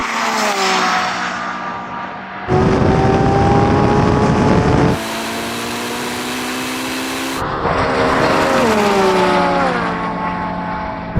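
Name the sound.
supercars drag racing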